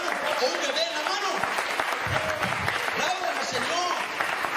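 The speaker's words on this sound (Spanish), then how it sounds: "aplaudan al Señor." A church congregation applauds during a sermon, a dense, continuous patter of many hands with voices calling out over it throughout.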